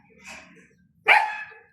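A pet dog gives two barks, a softer yip followed by a sharper, louder bark up close, with a brief pause between them.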